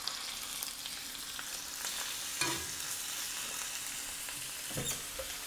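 Shrimp sizzle in a pan of hot sesame oil with garlic and ginger, a steady close frying hiss broken by a few scraping stirs of a spoon.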